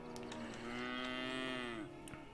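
A rare-breed longhorn cow on an organic estate gives one long, clear moo that rises and falls, heard alone against a faint outdoor background.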